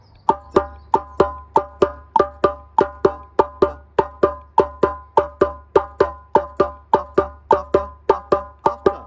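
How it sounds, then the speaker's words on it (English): A djembe plays a steady after-pulse rhythm of sharp, evenly spaced hand strikes, about two per second, close and clear with nothing else heard. "But on the djembe, it might sound like this."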